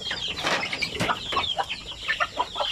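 Native chickens cluck and squawk close by in a busy, overlapping chorus, with soft rustling underneath, in Bukidnon, Philippines.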